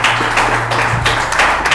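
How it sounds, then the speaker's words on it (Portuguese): Church congregation applauding, loud and dense clapping from many people with an even, sustained texture over a low background hum. "E a igreja aplaude o nome do Senhor"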